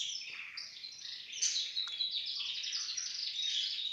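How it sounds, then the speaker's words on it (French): Canaries sing continuously in a bright, high trilling chorus, steady and moderately loud with quick chirps and warbles layered over one another, no voices present. "d'entendre le chant des canaris. Ça apaise."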